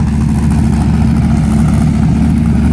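A Ford GT40 Heritage Edition on Firestone tires runs loudly nearby, a steady, dense low engine drone holding even without revving throughout.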